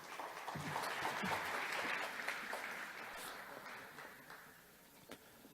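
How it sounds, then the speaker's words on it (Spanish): An audience at an electronic invoicing business talk claps for the arriving speaker, a full round of applause that builds quickly, holds, and then thins into scattered claps toward the end. "Por favor, para él un fuerte aplauso."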